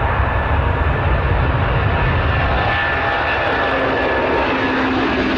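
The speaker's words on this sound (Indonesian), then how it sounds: "Ada juga Airbus Beluga." Airbus Beluga cargo aircraft in flight, a loud, continuous engine roar with a steady whine, close and unbroken, no voices.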